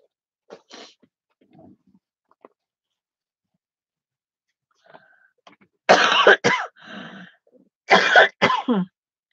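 Several harsh coughs come in two close bursts, preceded by quieter throat noises and breaths, loud and near with no talking.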